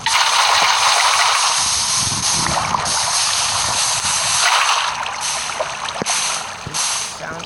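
Running water in the Minecraft video game gushes and sloshes steadily, a dense hissing wash that fills the clip and thins slightly toward the end, loud and continuous.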